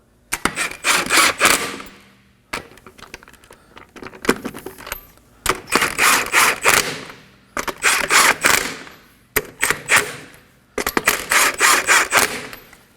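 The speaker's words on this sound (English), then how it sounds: "Start your lug nuts by hand." Lug nuts are run down on the front left wheel of a 2016–2020 Kia Sorento, heard as five loud, close, rattling bursts of a ratcheting tool with short pauses between them.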